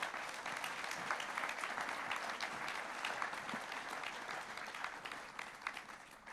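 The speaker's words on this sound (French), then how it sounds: "Je vous demande de l'applaudir." A business awards evening audience applauds as the France director of TotalEnergies walks onto the stage. The clapping is steady, dense and fairly faint, like a crowd heard from some distance.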